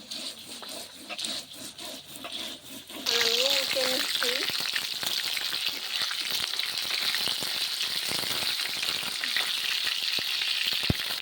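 Fish fries in hot oil, a dense continuous sizzle and crackle that swells loudly after a brief quieter start, close up, with a short stretch of talk near the beginning.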